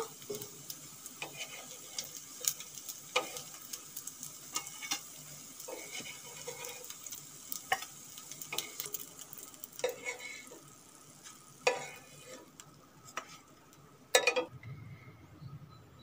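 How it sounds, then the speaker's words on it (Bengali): Semolina snacks frying in hot oil give a steady low sizzle, broken by sharp clinks and scrapes of a utensil lifting pieces from the pan. "নাস্তাগুলো ভাজা হয়ে গেছে, এখন আমি তুলে নেব।"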